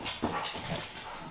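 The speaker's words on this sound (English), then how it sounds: "my dog is going crazy right now." An excited dog indoors gives a short burst of yelps and whining, close and fairly loud against a noisy background, with no talking.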